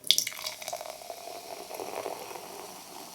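Cola pouring into a glass, a soft fizzing, bubbling liquid stream with a brief splashy start that settles into steady effervescent hiss, close and fairly quiet.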